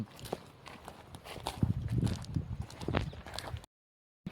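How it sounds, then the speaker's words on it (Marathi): A black horse walks with hooves clip-clopping in an irregular rhythm, close and moderately loud over some background rustle and faint voices, ending in a brief silence. "बघू शकता भावांनो आपला काळा घोडा कसा दिसतोय."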